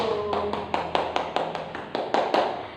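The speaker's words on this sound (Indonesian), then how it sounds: "tepuk tangan dulu dong untuk Ayu." Classroom applause for a student named Ayu: a string of about a dozen fairly even claps, moderately close and clear, with no talking over them.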